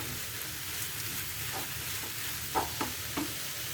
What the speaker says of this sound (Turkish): Bunlarla beraber güzelce kavuruyoruz.